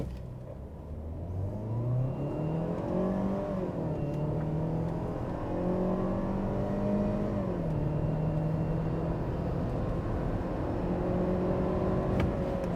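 A Rira car revving hard in sport mode with manual shifting and ESP switched off, the engine note climbing and holding at high rpm, loud and close, droning continuously with no talk.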